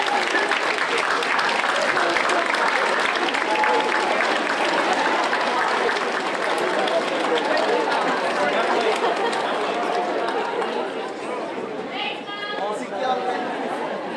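Graduates at a convocation ceremony give a long, steady round of applause to their loved ones in the audience, with crowd chatter mixed in and the clapping easing off near the end.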